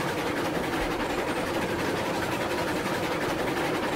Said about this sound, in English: Not a very big engine, but she seems to work pretty hard.